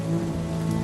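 Cold-weather rain falls in a steady, even hiss of drops on surfaces, close and continuous, with no voices.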